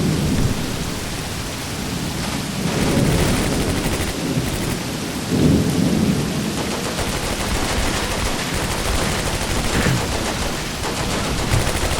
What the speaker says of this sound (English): There we go, Vickers opening fire, the men are moving forward, already engaging the enemy.